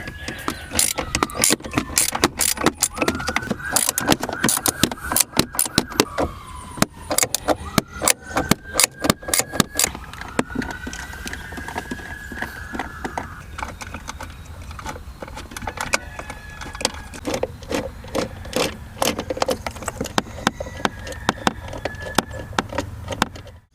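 Metallic clicks, tool ratcheting and small screw rattles as 10mm screws come out of a car's shifter housing during a short throw shifter install, with sharp transients in irregular bursts, close up, and no voices.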